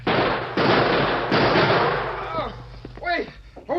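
Rapid gunfire in an old western shootout, several loud broadband blasts crowding the first seconds and fading into reverberation, followed by shouting voices.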